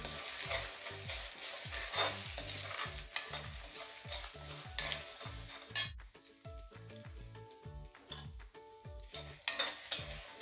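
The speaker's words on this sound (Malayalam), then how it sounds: "ഇനി നമുക്ക് 2 മുട്ട പൊട്ടിച്ചൊഴിച്ചിട്ടൊന്ന് കൊത്തി പൊരിച്ചെടുത്ത് മാറ്റി വെക്കാം" Two salted eggs scrambled and fried in a pan, with loud sizzling and quick repeated spatula strikes and scrapes against the metal, rhythmic and close, the sizzle easing later while the tapping continues, no voices.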